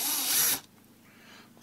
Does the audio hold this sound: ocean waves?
no